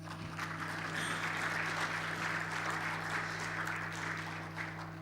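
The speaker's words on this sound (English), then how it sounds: "Please clap." Audience applause at an investment forum on Rwanda's economy, a steady dense wash of clapping that holds for the whole stretch at even strength, with a low electrical hum running underneath.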